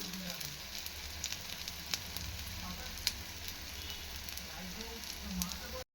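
A bottle gourd snack fries in a little oil in a pan, giving a close, even sizzle with scattered small pops and crackles throughout.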